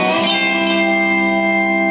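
Lap steel guitar ringing out sustained chords with a smooth sliding onset, the tone bright and steady with a reverberant tail, played alone without talk.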